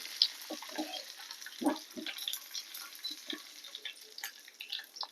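Curry leaves dropped into a hot pan for a Palakkad-style koorka and coconut curry, giving a soft crackling sizzle with scattered pops, close and fairly quiet.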